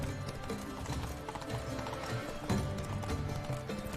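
Galloping hooves of the horse Roach in The Witcher 3, a steady clip-clop running rhythm mixed under continuous game music and ambience.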